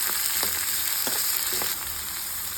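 Chopped medium-sized onion frying in a pan, a steady close sizzle with a few faint clicks of a utensil against the pan, with no talking.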